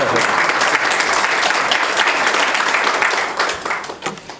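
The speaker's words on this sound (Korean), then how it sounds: "박 시장님께는 특별한 박수를 한번 드려야 될 것 같은데" An audience at a political party reform forum applauding for Seoul mayor Park Won-soon, a full, steady burst of clapping that tapers off near the close.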